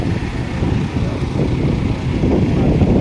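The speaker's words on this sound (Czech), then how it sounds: "je velmi větrný den, zvláště tady na hrázi rybníka" Strong wind sweeps across the dam of the Buzický fishpond near Blatná, buffeting the microphone with a loud, unbroken low rumble and roar.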